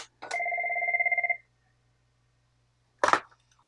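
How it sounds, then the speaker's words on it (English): A Cisco IP phone from the 2000s rings with a rapid electronic warbling tone, two pitches trilling together for about a second, followed a moment later by a short clatter. "some Cisco IP phones from the early to late 2000s, which also have a very recognizable ringtone"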